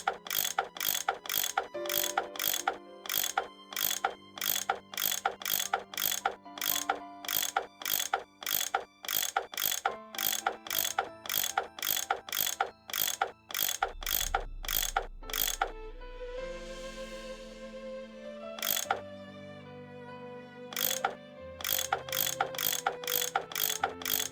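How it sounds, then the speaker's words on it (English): A repeated mechanical ratcheting of a tool unscrewing bolts in the Nancy Drew: Last Train to Blue Moon Canyon game, sharp clicks in steady rapid rhythm with a brief pause and low rumble midway, loud and without talk. "That tool I saw in the caboose. I bet that's what you use to unscrew these bolts."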